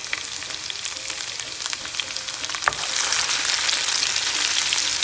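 Dried red chillies and onion frying in hot oil for Kerala-style sambar, a dense, steady sizzle close by that swells louder partway through, with no talking.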